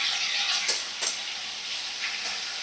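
Snake gourd and fish frying in pans, a steady sizzling hiss of hot oil with a few brief louder spits and crackles rising above it.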